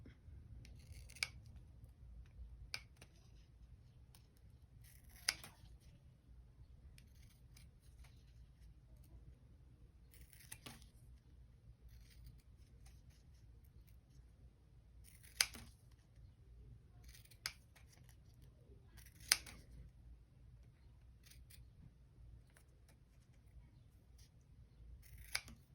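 Scissors snipping through paper to cut out a star clip shape, isolated crisp snips spaced a few seconds apart in a quiet room, close and clear with no talking.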